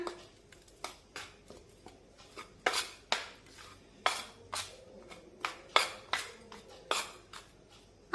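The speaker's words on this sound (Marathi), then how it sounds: "त्यानंतर दोन चमचे पांढरे तीळ टाकूया मिक्स करून घेऊया" Dry ingredients and white sesame seeds are stirred in a bowl for cabbage parathas: repeated sharp scraping clinks of a spoon against the bowl in an irregular rhythm, close and fairly quiet.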